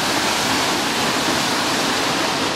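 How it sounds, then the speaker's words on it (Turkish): Waterfall on the Gogula stream in the Black Sea region, a dense continuous roar of rushing water heard up close, steady and loud with no voices. "Şöyle bir şelale tarzı şelalemiz var."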